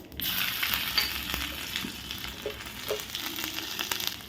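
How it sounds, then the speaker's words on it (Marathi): Mustard seeds, cumin, hing and ginger sizzle in hot ghee, a continuous crackling fry with scattered small pops and a few soft stirring taps. "तूप तापल्यावर आपण घालूया मोहरी नंतर घालूया जिरं आणि थोडासा हिंग हे घालूया आलं"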